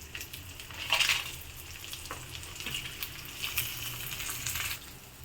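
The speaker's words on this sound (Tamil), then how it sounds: "உளுத்தம் பருப்பு மிளகாயை வறுத்து எடுத்து வச்சுக்கணும்" Urad dal and dried red chillies fry in hot oil for a bitter gourd chutney, a close crackling sizzle with bursts of louder spitting and stirring, no voices.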